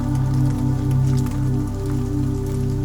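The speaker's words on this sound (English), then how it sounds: "The rain continues to pour as I walk along the street" Heavy rain pours steadily onto a city street in Amsterdam, a continuous close hiss that runs without a break over a low, sustained musical drone.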